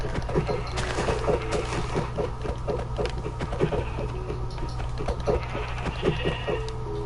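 Sheep in a video game bleat over and over in quick, overlapping calls against a steady loud background hum, with no talking.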